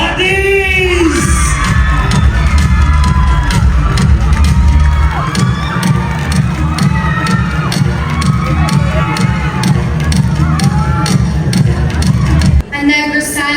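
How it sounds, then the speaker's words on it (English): A crowd at a Miss Universe Philippines Negros Occidental pageant erupts in loud, continuous applause with shrill cheers, whoops and screams carrying on steadily for over twelve seconds, ending abruptly as a voice starts. "How about giving a round of applause for"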